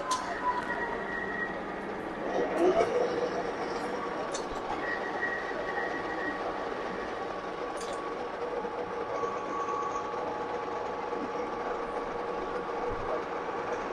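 Lathe turning a gearbox cover, a steady machine hum with sustained tonal whine and a brief louder rattle early on, continuous throughout with no talk.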